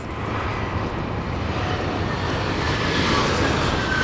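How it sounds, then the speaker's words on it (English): A small American Eagle regional plane takes off from the north runway at LAX in Los Angeles, its engine roar loud and steady, broadband and slowly swelling throughout. "It sounds like a small plane."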